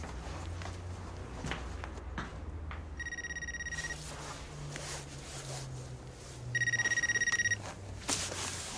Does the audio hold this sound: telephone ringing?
yes